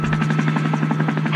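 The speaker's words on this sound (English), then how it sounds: "Helicopter" A helicopter beats out a rapid, steady rotor chop with a droning engine hum underneath, close and loud throughout the brief stretch.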